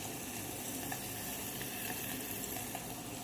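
Chopped onions and green chillies hit hot tempering oil with curry leaves for kodri millet khichdi, producing a soft, even sizzle that hisses quietly and continuously.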